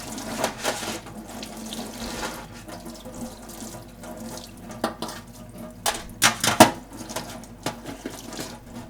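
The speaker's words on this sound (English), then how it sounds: "Now we're going to rinse it down with water." Tap water runs and splashes over a freshly degreased bike chain as it is rinsed, a soft continuous trickle broken by louder irregular splashes and a few light metallic clinks near the end.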